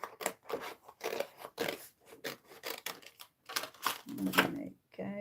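Scissors snip roughly around a piece of paper during a papercraft session, giving a short run of quick close cuts amid steady talking.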